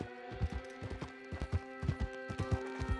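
Horse hooves clip-clop in Red Dead Redemption 2, a steady rhythmic gait of close, repeated thuds over a constant layered game soundscape.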